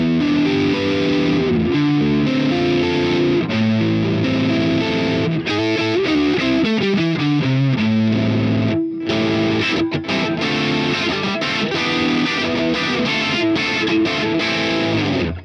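Electric guitar runs through the Boss IR-2's proprietary Brown amp simulation, giving a thick, distorted tone on riffs, single-note lines and sustained chords, loud and steady for about fifteen seconds with no voices.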